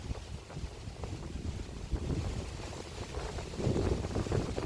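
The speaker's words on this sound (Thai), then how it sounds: "ดูลมก็แรงมากเลยนะคะ" Strong outdoor wind buffets the microphone throughout during an exercise walk, a continuous loud rumbling roar with gusts swelling louder toward the end, and no speech over it.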